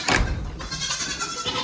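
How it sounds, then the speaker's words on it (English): Baby goats bleat close by, with one sharp cry followed by overlapping bleats from the crowded herd near a gate. "It's like a sea of baby goats."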